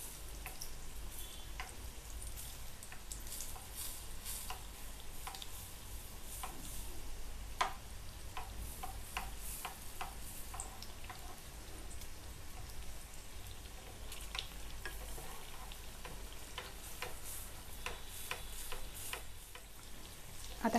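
Vade frying in oil in a pan while cooking rassa vade bhaji, a soft steady crackle of fine sizzling pops throughout, faint and close, with no talk.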